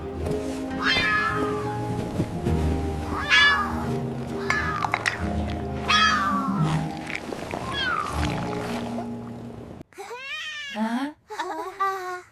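A cartoon cat meows repeatedly in a children's animated story, a string of clear, close mews over a background music bed, followed by a few sharper meows near the end.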